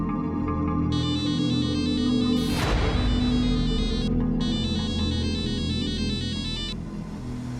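A phone ringtone plays a bright, repeating electronic melody in two bursts separated by a brief swoosh, steady and fairly loud over a low background hum, with no one talking.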